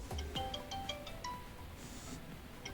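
An incoming LINE voice call rings on a Xiaomi Smart Band 8 setup as a short melodic sequence of bright chiming tones, moderately soft, with faint room noise and no speech.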